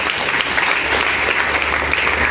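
A congregation at a prophecy church service applauds steadily, dense continuous clapping filling the room for a couple of seconds with no break.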